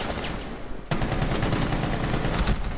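Rainbow Six Siege gunfire: after a short lull, rapid automatic shots burst out in dense, continuous volleys, loud and close.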